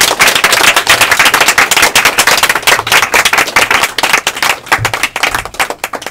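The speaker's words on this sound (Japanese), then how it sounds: "じゃ佐々木さんにもう一度盛大拍手を" An audience at a Japanese talk event gives a guest named Sasaki a loud, sustained round of applause, dense rapid clapping that fills the room with a few slight dips.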